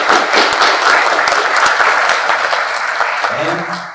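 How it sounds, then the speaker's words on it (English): A large audience applauds at a chapter event, with loud, dense clapping filling the room that eases slightly toward the end as a voice begins to speak over it. "Mr. Kostas Balaras, please a big applause."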